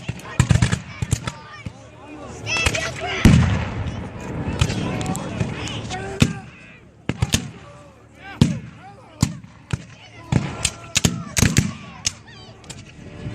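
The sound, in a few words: artillery cannons firing at Civil War battle reenactment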